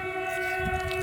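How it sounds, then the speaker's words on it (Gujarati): A military train passing, heard as a sustained, steady horn-like tone with a low rumble of the train underneath; brief and moderately loud, with no voices. "તો મિલિટરી ટ્રેન સ્વતંત્રતા સેનાનીઓને મારવા માટે હથિયારો ભરીને કોઈટિયા તરફ જઈ રહી છે"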